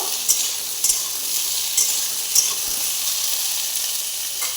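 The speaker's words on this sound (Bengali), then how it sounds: "একটু নাড়াচাড়া করব একটুখানি তরকারিটা নেড়ে নেবো" Bottle gourd curry sizzles in a frying pan with a steady hiss, while a spatula stirs it and lands several light scrapes and clicks, close by and with no voices.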